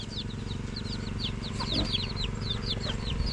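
Chickens in a coop cluck and chirp in quick, repeated short calls, fairly close, over a steady low background hum.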